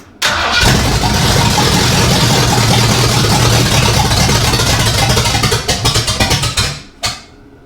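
A 1964 Ford F100 pickup engine cranks loudly and steadily for about five seconds, then sputters in uneven bursts before cutting off, with no voices.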